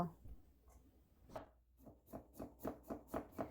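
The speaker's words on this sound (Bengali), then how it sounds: "যতটুকু সম্ভব পাতলা করে স্লাইস করে নেব।" Young cucumbers are sliced thinly on a board with a knife, at first a few scattered taps, then a quickening run of soft, regular chops, quiet and close.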